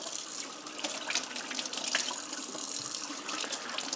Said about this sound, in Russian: Огурчики, свежие огурчики. Дело очень хорошее. Также их надо ополоснуть. Ополаскиваем.